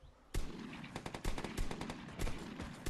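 Rapid bursts of gunfire in the online shooter Vigor, loud and close, with one sharp shot followed by clustered volleys of automatic fire and no talking.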